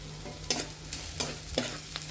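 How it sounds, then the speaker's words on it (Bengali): Whole nigella seeds fry in hot oil for a shrimp curry. A soft, steady sizzle carries a few sharp clicks from stirring, close and quiet with no voices. "আমরা এখানে গোটা করে কালো জিরে দিয়ে দিব"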